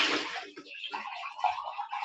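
A kitchen tap runs, a steady hissing splash of water heard alongside talking in the room.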